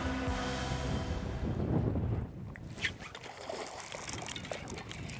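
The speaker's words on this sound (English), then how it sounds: "The wind is howling today." Gusty wind roars against the microphone outdoors on a spring fishing trip by a boat, a broad rushing noise that eases partway through and continues more unevenly.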